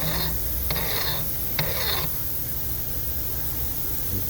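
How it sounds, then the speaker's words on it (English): A burr being gently filed off a 3D-printed Stirling engine part, heard as a few short close raspy strokes in quick succession over a steady background hiss, then fading into the hiss alone. "so just very gently taking that burr off."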